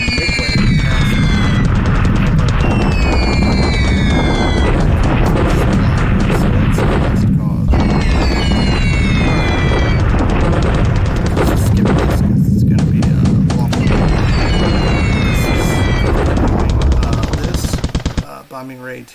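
Explosions and rapid gunfire from a bombing raid over Cagayan and Bataan in the War in the Pacific strategy game, loud and continuous, with repeated bursts and booms that stop abruptly near the end.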